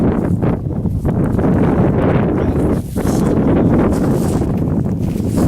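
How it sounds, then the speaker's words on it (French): Strong wind roars and buffets the microphone in a continuous low rumble, with one brief lull midway. "Il y a beaucoup de vent, hein?"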